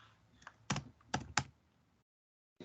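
A few keys struck on a computer keyboard while typing COBOL code, with a handful of sharp, close clicks in an uneven cluster, then a pause and one more click.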